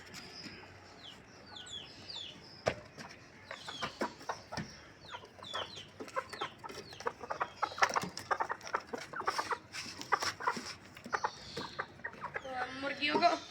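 Hens being pushed out of a pigeon cage cluck and cackle in agitated, uneven bursts up close, with people talking over them and a brief scraping rattle near the end.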